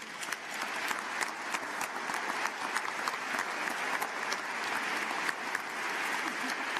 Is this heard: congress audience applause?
yes